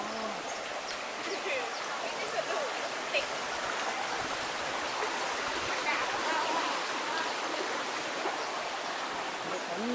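Stream water rushing at Emerald Pool in Krabi, a steady broad hiss of flowing water heard up close, with no voices over it.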